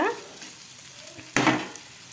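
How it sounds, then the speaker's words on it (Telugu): Chicken keema mixture stirred in a hot oily pan, with a steady sizzle and a sharp scrape of the spoon partway through, close and alone. "ఇలా బాగా ముక్కలికి పట్టేలాగా బాగా కలుపుకోవాలన్నమాట"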